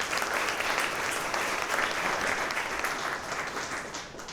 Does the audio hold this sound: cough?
no